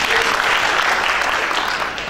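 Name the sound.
church congregation applause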